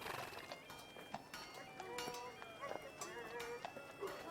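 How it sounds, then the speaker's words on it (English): Horse-like beasts of burden heard in a busy outdoor scene, with scattered hoof clops and whinny-like calls at moderate distance over a quiet background, and voices mixed in. "you could hear ostrich horses, and you could hear other like beasts of burden off to the side"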